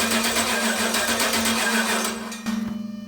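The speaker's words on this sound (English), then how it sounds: "Injector is pulsing as it should be." A fuel injector on a Gen III Hemi engine clicks in a rapid, even buzzing rhythm while the engine cranks, loud and close, with the pattern faltering briefly near the end.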